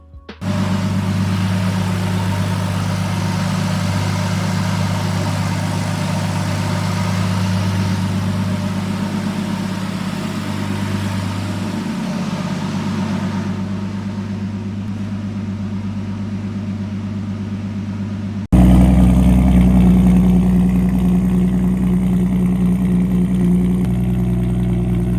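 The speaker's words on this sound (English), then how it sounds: "So we fired up the car." A turbocharged BMW E36 engine turns over and settles into a steady, loud idle close by, with the tone lifting and thickening as it revs near the end; no one speaks.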